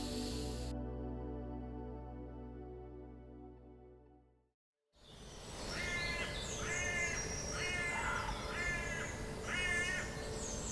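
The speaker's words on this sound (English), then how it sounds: "Apparently this is a green woodpecker, and the laughing sound is called a yaffle." A green woodpecker gives its laughing yaffle call in woodland near a log cabin, a series of repeated rattling notes at moderate distance, preceded by a steady droning hum that cuts out.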